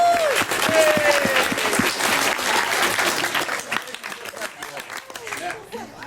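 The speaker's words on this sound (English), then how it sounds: "give them a big clap" Warm applause from a seated audience for the Red Wallers group as they come in, many hands clapping continuously under a speaker's voice, tapering slightly near the end.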